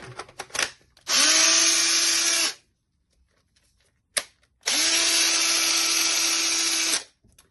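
A repaired DeWalt drill runs in two bursts of about one and a half and two and a half seconds, each a loud, steady high whine with quiet gaps between.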